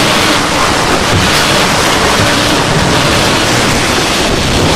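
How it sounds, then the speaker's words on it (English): The wake of a catamaran under way at sea on a 1994 Atlantic crossing roars as a loud, steady wash of rushing water, mixed with wind buffeting the microphone. "we just like to record the wake of the Laura Lee underway when it's really moving"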